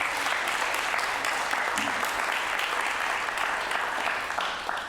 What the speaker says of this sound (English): Will you give a round of applause to this gentleman here